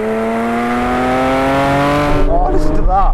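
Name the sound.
Porsche 911 GT3 engine note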